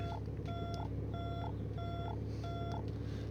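A landing gear warning alarm sounds in the cockpit of an SF260D aircraft as a steady, evenly spaced series of beeps over a constant loud engine drone.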